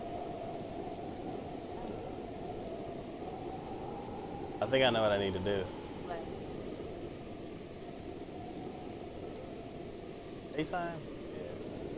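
Steady rain hisses through a rainy scene in Zelda: Breath of the Wild, a constant wash of noise under a man's occasional speech.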